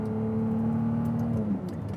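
Hybrid V6 of a Ferrari 296 GTB supercar, heard from inside the cabin: a steady, loud engine drone holds for over a second, then the pitch falls away slightly as the load eases.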